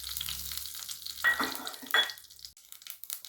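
Dried red chillies, mustard seeds and urad dal crackle in hot oil, a soft close sizzle with a couple of brief louder bursts that cuts off abruptly partway through, then faint hiss, no talk.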